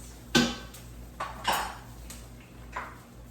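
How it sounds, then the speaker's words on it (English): Cooked shrimp scooped onto a plate, heard as three or four soft clinks and scrapes of a utensil against the dish, spaced about a second apart in a quiet kitchen. "we're going to go ahead and scoop in some of these shrimpies on our plate"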